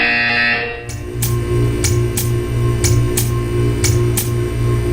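A Portal 2 game buzzer sounds in short repeated pulses, evenly spaced and loud, over a steady low electronic hum after a higher tone cuts out.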